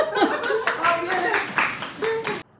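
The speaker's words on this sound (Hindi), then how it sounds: "तालियां" Hands clapping in steady applause for about two seconds, fairly close and loud, then stopping abruptly.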